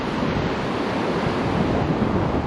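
Wild, rough sea surf breaking steadily on the open beach at Dawlish Warren in South Devon under a grey sky, a loud continuous wash of waves mixed with gusting wind buffeting the microphone, with no voices.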